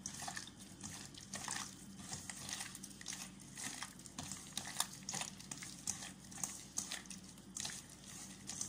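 Egg being mixed into creamed margarine and sugar for cookie dough, a steady wet stirring and squelching with repeated soft scraping strokes, close and continuous without talk.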